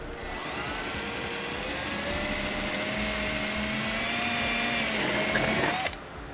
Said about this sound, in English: We'll just use a 5/16 drill bit and drill through that mark.